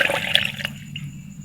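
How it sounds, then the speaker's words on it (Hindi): Water pours from a small glass into a sweet drink mixture with drink masala, a loud close splashing gush that stops abruptly partway through, leaving a quiet tail. "2 गिलास हम इसमें पानी शामिल करेंगे"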